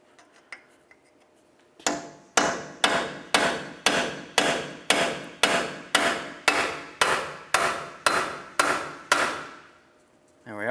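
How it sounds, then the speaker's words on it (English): Hammer blows on a punch drive a driver-side CV axle shaft out of its bearing on a 2007-2011 Toyota Camry, about fifteen sharp metallic strikes in a steady rhythm after a brief quiet start, each ringing out before the next. "Then take a hammer and a punch."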